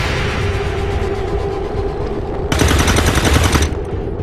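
A burst of rapid gunfire from a shotgun in the video game XCOM 2, loud and dense for about a second over a constant game backdrop hum, no talk.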